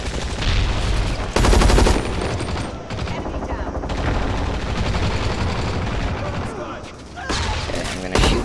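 Rapid automatic gunfire from a hardcore video game firefight rattles loudly and almost continuously, with dense bursts and brief pauses between volleys.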